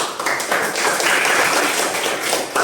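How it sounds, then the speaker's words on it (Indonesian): A class of primary school pupils claps hands together in unison, a brisk burst of fairly loud, dense clapping lasting a couple of seconds. "Kita tepuk tangan semua."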